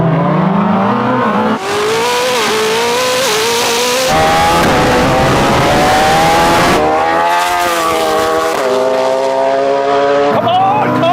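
A Koenigsegg Jesko Attack and a supercharged Suzuki Hayabusa roar and rev through repeated gear changes in a drag race, accelerating hard, pitch climbing and dropping, voices shouting over the din.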